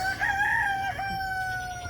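A rooster crows close by in one loud, drawn-out call with a slight dip partway through, set against a steady low background hum.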